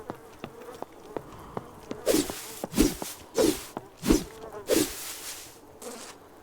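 Bees buzz in a Roblox game while honey is gathered: a steady insect drone that swells into about five loud, regular pulses, close and unbroken by talk.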